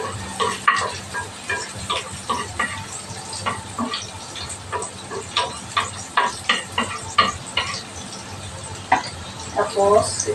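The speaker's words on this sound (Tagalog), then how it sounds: "Gisa na natin sa bawang at sibuyas" Garlic and onion sautéing in oil in a pan for fish menudo, crackling sizzle with frequent sharp scrapes and clinks of stirring, close, with a voice talking over it.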